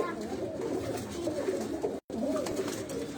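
Pigeons coo steadily at a flying pigeon loft, a low continuous chorus of close, layered cooing that cuts out for a brief moment midway, then resumes.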